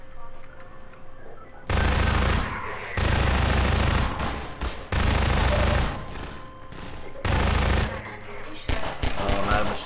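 Sustained bursts of automatic machine gun fire in the video game Half-Life 2, loud and close, arriving in several long rattling volleys separated by brief pauses.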